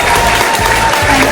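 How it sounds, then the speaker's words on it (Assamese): Loud, dense clapping from a small group at a game held in a bakery, continuous and close for a brief moment. "জোৰে হাত চাপৰি।"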